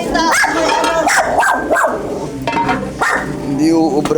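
A dog barks repeatedly at close range, with several loud, sharp barks in an uneven rhythm and some yipping, and people can be heard talking around it.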